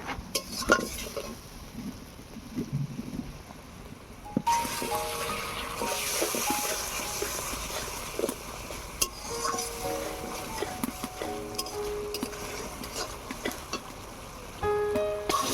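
A spatula scrapes and clinks against a pan while spice paste for a spicy halwa fish curry sautés with a little added water, giving soft sizzling under repeated stirring strokes and a few metallic knocks.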